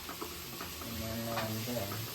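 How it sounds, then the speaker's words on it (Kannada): Onions sizzle and fry in a pan in a home kitchen, a soft steady crackle with occasional stirring scrapes, close but fairly quiet and with no voices. "ಈರುಳ್ಳಿ ಫ್ರೈ ಮಾಡ್ತಾ ಇದ್ದೀನಿ"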